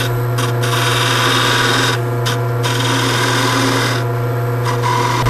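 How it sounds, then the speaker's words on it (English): A skew chisel cuts separating lines into spinning wood on a woodturning lathe. A steady low motor hum runs under a continuous scraping rasp that briefly drops out several times as the tool lifts. "the best way to do that is to use a skew and cut a couple lines between the colors"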